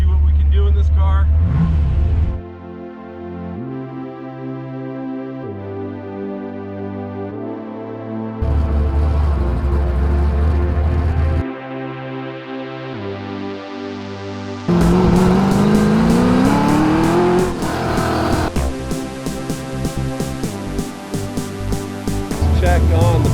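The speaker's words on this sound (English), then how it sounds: "1967 Mustang. Owned and built by TCI Engineering." A 1967 Mustang built by TCI Engineering on an autocross course, its loud engine revving hard through shifts with tire squeal and sudden jumps in volume, under periods of talk from inside the car.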